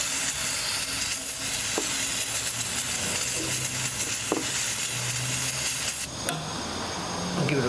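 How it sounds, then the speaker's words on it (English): An aerosol can sprays onto a car engine part during a 2008 Hyundai Elantra timing belt service, giving a continuous loud hissing spray that runs nearly the whole clip with a brief pause and faint clinks. "Now we'll just give it a big spray."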